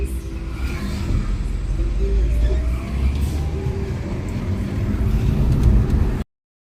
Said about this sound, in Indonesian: Macam inilah sahabatku semua suasana jalan raya perkotaan yang ada di Indonesia.